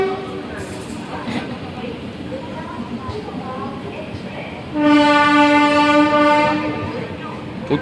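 The Jamnagar-Vadodara Intercity SF Express stands at a station platform as rail noise rumbles, then a loud sustained train horn sounds for about three seconds, with voices audible at the start.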